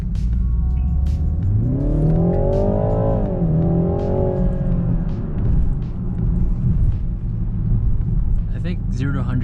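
A 2020 BMW 330i xDrive accelerates hard from inside the cabin, its engine note climbing steadily in pitch and then easing off, with a continuous road rumble underneath.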